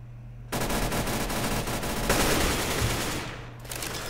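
Sustained automatic rifle fire from an AK during a professional Counter-Strike match on Cobblestone, a loud dense burst that starts abruptly and tapers near the end, with no talking.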